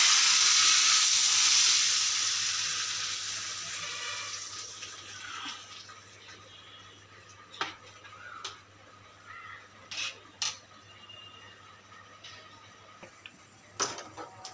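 Tadka for homemade sambar with coriander and curry leaves, a loud steamy hiss and sizzle of spices hitting hot oil that fades over a few seconds into a quiet background with sparse clicks and ticks.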